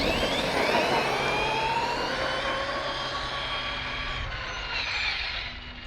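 Kraton RC car racing fast down a driveway, its electric motor whining in rising and falling tones, loud and close throughout, with a steady rushing roar of tires and drivetrain and no talk.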